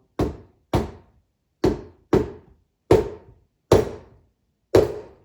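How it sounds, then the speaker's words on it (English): A portafilter from a Breville Barista Express BES870 espresso machine is knocked into a knock box to empty the spent grounds: seven sharp, hollow thunks in a steady series, close and loud, with no voices. "Knock it into the knock box if you have one."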